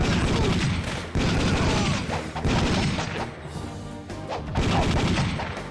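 Gunshots in the Time Crisis arcade shooter played in VR, a steady barrage of loud, rapid shots and crashing impacts filling the whole stretch without pause.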